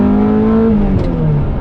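Ferrari F355 Berlinetta engine revving up close, a loud, steady high-pitched rev held for about a second and then dropping briefly.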